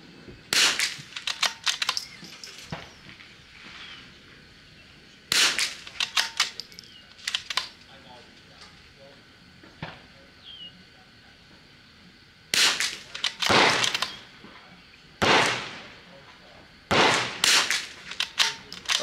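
Vudoo and CZ rifles are fired at a target, with a series of sharp, loud reports spaced several seconds apart, each with a short ringing tail and some handling noise between shots.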